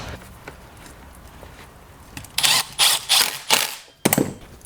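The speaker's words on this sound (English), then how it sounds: "Now what you want to do is install the biggest screw out of them all right down here." A screw securing the power head to the shaft of a STIHL FS91R string trimmer is driven home, heard as a quiet stretch followed by several loud, close clicking ratchet bursts and a final sharp click.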